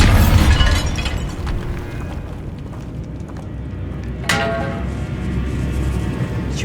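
A Bombarda spell explodes in Hogwarts Legacy, a loud burst at the start that breaks into shattering debris and a fading rumble, with a second sharp crack a few seconds later and no talk.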